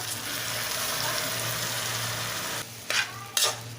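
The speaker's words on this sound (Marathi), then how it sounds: "तांदूळ आणि डाळी मिक्स केलेलं हे परतून घ्यायचं जरा" Washed rice and mixed lentils stir-fried in a pan with turmeric: a steady frying hiss runs throughout, then two quick scraping stirs sound near the end.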